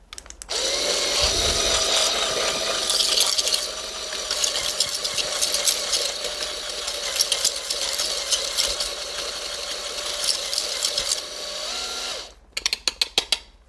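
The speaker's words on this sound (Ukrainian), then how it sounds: "Ми навіть можемо не змінювати насадку нашу на міксер" An electric mixer runs continuously for about eleven seconds, whirring loudly as it blends ammonia-free hair dye for grey coverage, then stops abruptly with a few clicks at the end.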